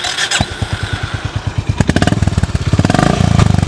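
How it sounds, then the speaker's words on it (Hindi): A Honda CB350 RS motorcycle runs close by, its exhaust thumping in a steady, even rhythm that gets quicker and louder as the engine is revved near the end. "Let's go towards the Honda CB350 RS का एग्जॉस्ट कैसा है।"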